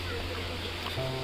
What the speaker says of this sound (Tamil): தண்ணியோட சத்தம் அதிகமாக கேட்குது.